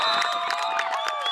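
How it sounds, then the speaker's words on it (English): Parents cheer at a youth sports game. A brief burst of crowd noise carries sustained, shouted and whistle-like voices that are fairly loud and dense throughout. "You can hear their cheers."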